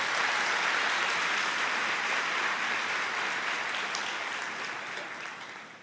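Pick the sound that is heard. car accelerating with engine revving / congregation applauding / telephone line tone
congregation applauding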